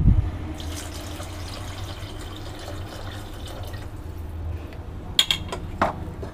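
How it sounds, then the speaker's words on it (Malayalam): Tamarind water poured into a pot of tomato rasam in a home kitchen, a steady soft liquid trickle and splash running throughout, with a few brighter drips near the end. "നമുക്കിതിലേക്ക് ഇനി പുളിവെള്ളം ഒഴിക്കാം"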